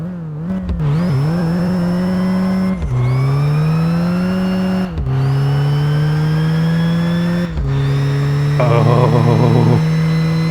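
A modified mini truck's engine revs hard through several gears in a mock-up drag race, each climb in pitch cut by a brief dip at the shift, loud and close throughout.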